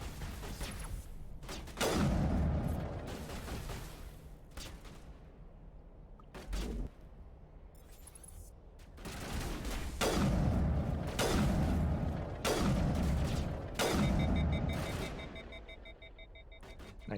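Gunfire in the sci-fi shooter game Mass Effect: repeated bursts of weapon shots and heavy booms in clusters, with louder volleys around two, ten and fourteen seconds over a steady background of game ambience.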